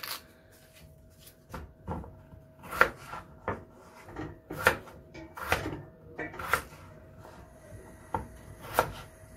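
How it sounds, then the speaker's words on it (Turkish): Knife strikes on a cutting board dicing potatoes, irregular sharp chops spaced about a second apart, close by, with a faint steady hum underneath. "Patateslerimizi doğradık."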